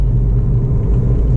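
A Honda Amaze Diesel's engine runs with a loud, close, low rumbling drone, holding a steady throaty tone with slight fluctuation over a brief moment and no talking.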